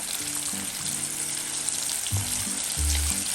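Crispy fried chicken pieces cooking in hot oil give off a loud, steady crackling sizzle throughout, with a few soft low bumps from the pan.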